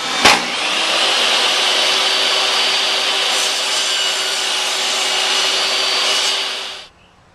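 Fine hand saw cutting thin, popsicle-stick-thick slices of wood, a steady continuous rasping stroke that runs for about six seconds after a sharp initial knock, close and fairly loud, with no talking.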